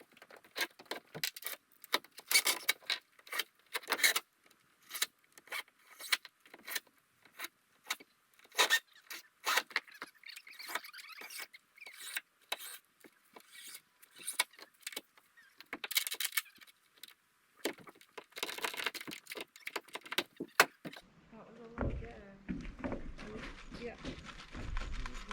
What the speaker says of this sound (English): using a ratchet strap to pull it tight